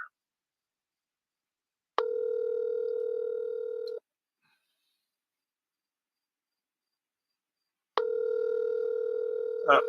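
A telephone ringback tone before a call goes to voicemail, with two long, steady electronic beeps separated by a silent pause.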